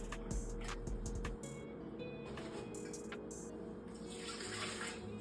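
Water runs steadily from a tap into a measuring cup, with a few clinks and knocks of the container early on, then continues as a constant pour.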